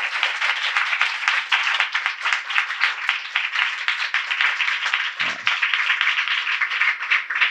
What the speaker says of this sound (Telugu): కటా చప్పట్లో